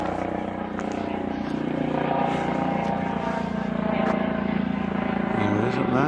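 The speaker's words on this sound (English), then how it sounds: "That's not a police helicopter, is it?" A police helicopter passes overhead outdoors in open wilderness near Sunderland, a steady droning rotor and engine hum that grows slightly louder, while people talk over it.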